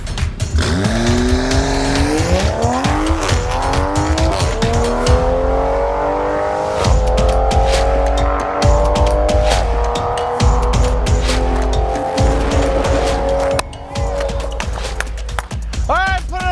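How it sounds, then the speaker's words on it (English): A tuned Toyota Supra on 101 octane fuel makes a drag run, engine revving hard through rising gear sweeps with shifts and tire noise, loud and close, with excited voices over it. "we're gonna go out and make a run and find out if between the new tune and the 101, we can get down into that 10-second barrier"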